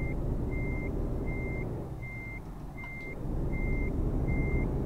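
A truck in Euro Truck Simulator 2 reverses with a steady electronic backup alarm, seven evenly spaced beeps over a constant engine rumble that dips briefly midway.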